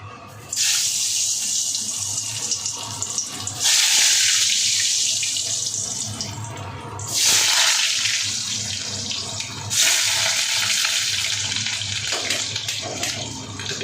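Kitchen tap water gushes in several bursts over potatoes being soaked, a loud close splashing stream that stops and restarts three or four times, with no talking.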